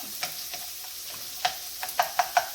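White onion sizzles in a pan for keto cauliflower fried rice, with a steady soft frying hiss and a few sharp scrapes and taps of stirring, close and clear.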